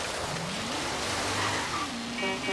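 The Halo Warthog in Forza Horizon 3 drives with its engine rising and dropping as it shifts gears, a steady mid-loud motor note with audible pitch steps and faint tire noise, and no talking.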